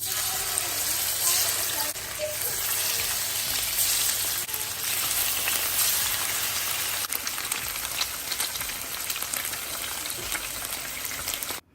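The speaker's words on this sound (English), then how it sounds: "So add some oil to your pot, let it get hot, and bam." Salmon fries in hot oil in a pot, sizzling and crackling steadily, a dense hiss lasting several seconds before cutting off abruptly at the end.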